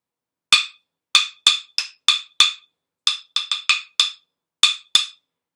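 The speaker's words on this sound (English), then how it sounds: "This one is the wood block." Dry, clacking strikes on a wooden block sound close and clear in a syncopated rhythm, about thirteen quick knocks in short groups, with no other sound.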